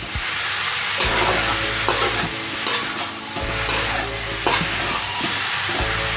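Chicken pieces with garlic and onion are stirred in a hot pan for Pallipalayam chicken, a steady loud sizzle broken by rhythmic scraping strokes of a spoon roughly every second, with no talking.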